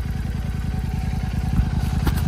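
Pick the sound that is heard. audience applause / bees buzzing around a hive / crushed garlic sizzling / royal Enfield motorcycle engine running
royal Enfield motorcycle engine running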